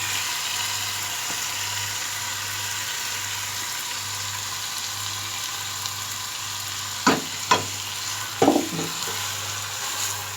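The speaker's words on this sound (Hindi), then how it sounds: "अब इस चिकन को हम अच्छी तरह भुनाई करेंगे अदरक लहसुन के पेस्ट के साथ।" Marinated chicken with ginger garlic paste sizzles steadily in a pan, with a few sharp scraping clinks from stirring toward the end, heard close with no talking.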